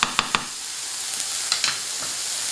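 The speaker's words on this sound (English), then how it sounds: "So I'm going to add the garlic and cook this for 1 more minute" Garlic sizzles steadily in a hot pan with shrimp, a close, even frying hiss broken by a few sharp stirring clicks and taps near the start and middle.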